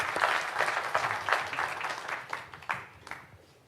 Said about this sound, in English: please join me in offering a round of applause to our presenters this morning